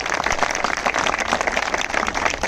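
Thin, scattered applause from an audience, a steady light patter of clapping with no one speaking.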